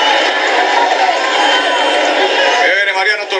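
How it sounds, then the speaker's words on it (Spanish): Stadium crowd at a Costa Rican league football match between Carmelita and Saprissa, a steady broad wash of applause and crowd noise throughout as a Brazilian striker is substituted off, with a commentator talking over it. "Recibido con aplausos el atacante brasileño"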